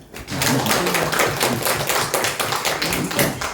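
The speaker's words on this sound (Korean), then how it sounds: "우리 박수 한번 칩시다." A church congregation claps together after a sermon on resurrection faith, dense overlapping hand claps filling the room, loud and close, with a few voices faintly underneath.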